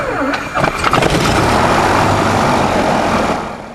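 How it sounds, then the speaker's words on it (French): A light aircraft engine cranked by its starter catches and fires up, a few uneven chugs giving way to a steady, loud roar that holds close by. "Une injection, 5 mm de gaz, personne devant, je vérifie encore une fois, je mets toujours la sécurité en avant et je démarre."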